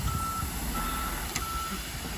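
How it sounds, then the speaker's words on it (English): Truck repositioning while reversing, its backup alarm sounding repeated steady beeps over a continuous engine rumble, moderately near, with no talk over it. "We're repositioning the truck."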